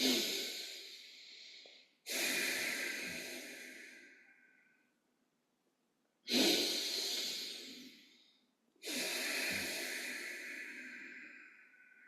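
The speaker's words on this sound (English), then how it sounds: "So just take a few flushing udanic breaths if you can." Forceful flushing breaths during a yoga breathing exercise: four long, loud rushing exhalations through the nose and throat, each lasting about two seconds, separated by short quiet pauses.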